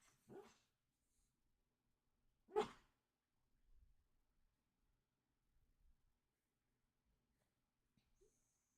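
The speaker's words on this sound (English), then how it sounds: "You can hear my pup possibly in the background." A dreaming pup lets out a couple of faint, brief muffled woofs or snorts in the background of a quiet room, separated by long stretches of near silence with tiny stirring noises.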